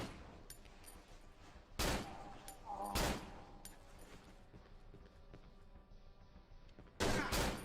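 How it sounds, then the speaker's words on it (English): Gunfire in the horror video game Cry of Fear: a few sharp, loud shots burst out at separate moments over a low background, with quieter distant pops between them. "He shot me from around the corner."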